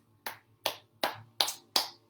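Five crisp hand claps in an even, unhurried rhythm, close and clear against near silence.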